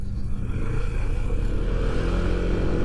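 A motorcycle riding along a road near Batu Dua, Sumedang, its engine a steady low rumble with wind noise, continuous and close.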